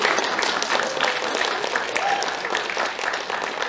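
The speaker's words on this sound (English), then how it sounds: "Give yourself a round of applause, won't you, ladies and gentlemen?" A pantomime theatre audience applauds in a steady, moderately loud wash of many hands clapping that carries on without a break and with no talking over it.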